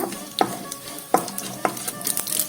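Mustard seeds and cut chillies spluttering in hot oil for a sorrel and chana dal curry, with a few sharp close pops over a steady crackling sizzle.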